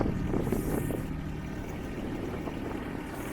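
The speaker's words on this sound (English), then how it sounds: "the hydraulics work at a good speed" A Rhino XN12 mini excavator runs its engine while the hydraulics work, giving a steady, low droning rumble mixed with wind noise on the microphone, with no one speaking.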